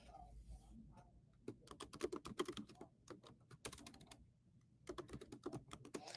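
Fingers tap out notes on a computer keyboard in quick irregular bursts of clicks with short pauses, close and fairly quiet in an otherwise silent room.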